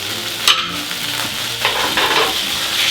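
Butter melting in a hot pan used for cooking chicken, a loud close sizzle with a couple of scraping clinks, no one talking.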